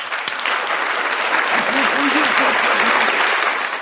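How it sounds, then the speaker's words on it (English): A crowd breaks into sustained applause, dense and loud, with a voice briefly audible beneath the clapping. "Clap for me."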